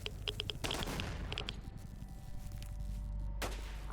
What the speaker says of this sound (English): I think they're shooting at me.